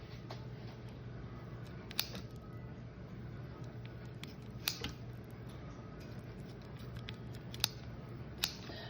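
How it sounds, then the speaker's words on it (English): Kitchen scissors snip through bacon in a few quiet, sharp cuts spaced apart, over a low steady hum. "I love my kitchen scissors."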